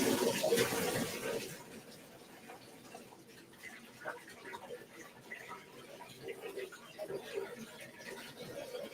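Water gushes loudly from a salon shampoo bowl tap for a moment, then continues as a softer running trickle while a person speaks quietly nearby.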